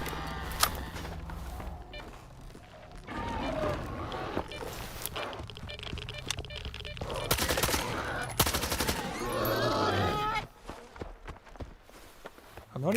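Bursts of automatic gunfire from a video game gun fitted with a Grom S14 drum magazine, mixed with footsteps and a speaking voice, loud and repeated across the stretch.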